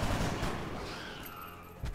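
Gunshots from the turn-based strategy game XCOM: Enemy Unknown: a loud burst of fire that trails off into a long, fading echo, then a second short crack near the end, with no voices.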